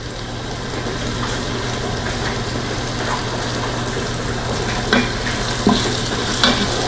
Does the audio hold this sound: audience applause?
no